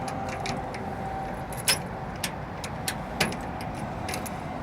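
Car keys jangle in a few brief metallic clinks over a steady background of a nearby running vehicle, with no voices.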